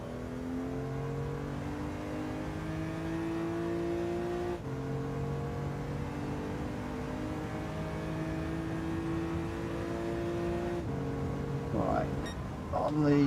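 A race car engine in Gran Turismo 7 drones and revs steadily through the gears, with a shift break partway through and a rising whine near the end, while someone talks over it.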